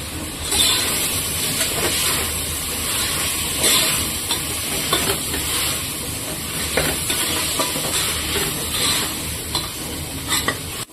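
Fenugreek leaves with ginger-garlic paste fry in oil for a menthya palav, giving a steady close sizzle with repeated scraping stir strokes throughout and no talking.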